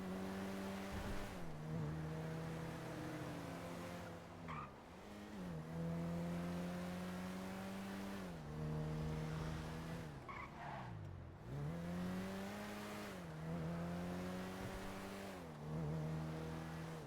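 Video game car engine revving and rising and falling in pitch, with repeated tire skids and squeals as it swerves around a roleplay driving scene; loud and continuous throughout.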